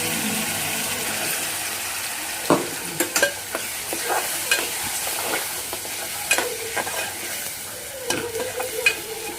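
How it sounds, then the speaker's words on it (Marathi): A steady crackling sizzle of thick ground masala paste of coriander, ginger and garlic frying in hot oil for a Konkani prawn curry, with occasional scraping and clinks of a spoon stirring in the pan. "आपण वाटण तेलात भाजलं आहे थोडं"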